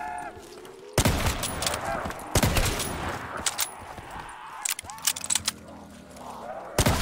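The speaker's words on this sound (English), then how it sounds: "This gun is actually pretty good." Loud gunfire bursts from a weapon in Call of Duty Zombies on the Astoria map, with sharp shots and rattling volleys spread across the clip over busy game sounds.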